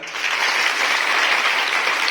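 An audience at a school event in Gurukul Kheda claps for the SDM, giving a dense, continuous burst of applause that holds at an even, fairly loud level for about two seconds.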